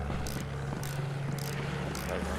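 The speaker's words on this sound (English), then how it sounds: "Plane's low." A propeller plane flies low overhead in a tank combat video game, its steady engine drone running continuously through the moment with a low hum and repeated whooshing bursts, while a player talks over it.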